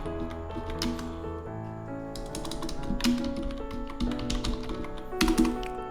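Rapid, uneven keystrokes on a computer keyboard while entering data in Tally accounting software, close and clear, with clusters of louder taps and no talking over them.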